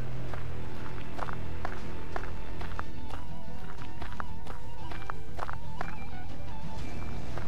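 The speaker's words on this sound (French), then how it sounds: "J'entendais seulement des bruits de pas." Footsteps in the video game Empyrion, an irregular run of distinct crunching steps over a low ambient hum, fairly close and with no talking.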